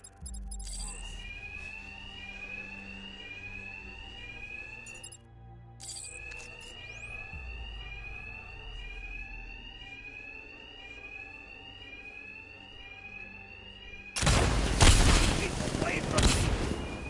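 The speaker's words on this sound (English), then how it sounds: "My attacks will be covered by the noise of the alarm." Alarm ringing in Batman: Arkham Knight, a steady repeating electronic whoop cycling throughout, with a brief gap mid-way and a burst of loud gunfire and booms near the end.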